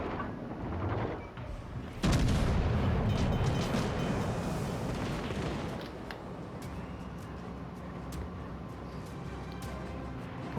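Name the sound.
warship secondary guns firing, from video game World of Warships Legends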